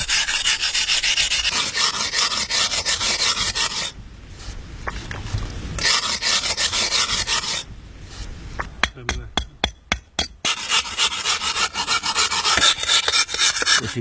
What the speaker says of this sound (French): Al-Khalfi lime les dents pour les amener au même niveau